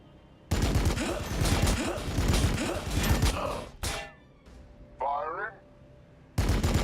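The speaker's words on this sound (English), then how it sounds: "Opening fire." Units in the Warhammer 40K Battlesector strategy game open fire in loud sustained volleys of rapid gunfire. A heavy blast and a brief pause with a growling unit voice follow, then another burst of shooting starts abruptly.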